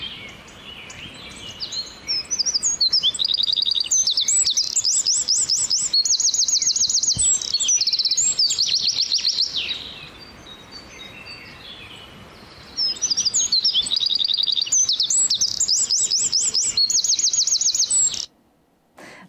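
Birdsong used as a sound effect, loud repeated chirping and trilling phrases in bursts, a brief pause midway and then more rapid tweeting, alone with no voices.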